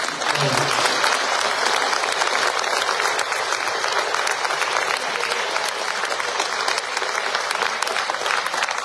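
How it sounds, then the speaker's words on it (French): Audience at a Dordogne departmental council New Year citizens' ceremony applauding young people from MFR Sagnac: steady, dense clapping throughout, loud and close, filling the room without a break. "on peut les applaudir"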